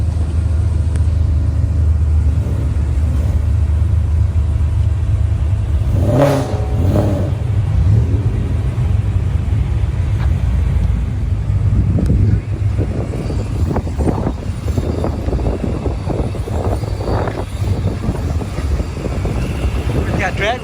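A supercharged Ford Mustang on drag radials at a Mustang Week car meet in Myrtle Beach, a loud steady engine rumble with wind buffeting the microphone, then sharp rising revs blipping repeatedly near the end.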